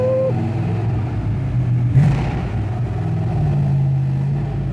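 A widebody Porsche 911 idles and runs with a loud, steady low rumble, its pitch shifting slightly as the revs wander, with a brief bump in the middle, close by and unaccompanied by talk.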